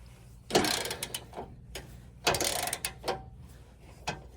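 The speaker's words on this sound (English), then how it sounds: "I'm going to have to get a pretty big socket wrench to get these loose" Socket wrench with a 19mm socket loosening high-torque bolts on a Ford Bronco, giving two bursts of close ratcheting clicks and metallic clanks with short pauses between them.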